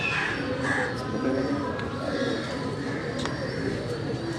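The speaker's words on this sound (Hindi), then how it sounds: "ये उस्ताद रेहान फजल खान साहब के हाथ के कबूतर हैं।" Pigeons on a Karachi rooftop cooing and calling steadily, with crows cawing among them in a dense, continuous outdoor chorus under faint background noise.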